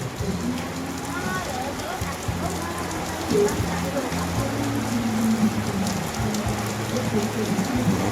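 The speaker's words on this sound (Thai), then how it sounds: "ตอนนี้ฝนตกหนักเลย" Heavy rain pours steadily at a market in Pak Phanang, Thailand, a dense hiss of drops, with a low engine drone running underneath throughout.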